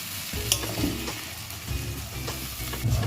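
A paste of mustard, onion and green chili fries and sizzles in a pan as it is stirred for a pabda fish curry, with a steady hiss and repeated scraping strokes, close and fairly loud.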